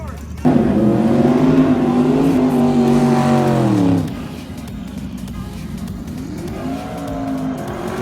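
Very quick drag racing cars accelerate hard at a drag racing event. A loud engine roar rises in pitch for a few seconds, then drops away to a quieter, distant drone that climbs again near the end.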